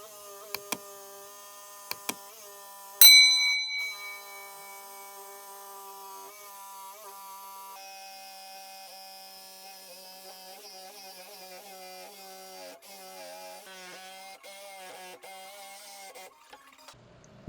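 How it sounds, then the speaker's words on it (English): A jigsaw cuts through a hard live edge wood slab with a steady, tonal motor whine whose pitch wavers and dips as the blade labours. A few sharp clicks come first, then the saw runs continuously up close with no talk. "You can see here it's pretty hard to cut, and it's definitely putting my jigsaw through the paces."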